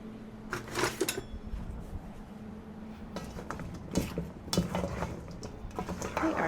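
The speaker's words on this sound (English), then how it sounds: "grab my big spoon so we can stir this" A big spoon stirs honey garlic chicken and vegetables in a single pan, giving scattered scraping and clinking knocks with soft sticky shuffling between them, close and moderately quiet.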